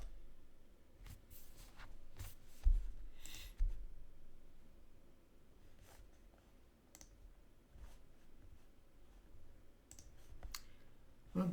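Light, sparse clicks from typing on a computer keyboard during a SQL injection lab, faint and irregular with short bursts and pauses in a quiet room.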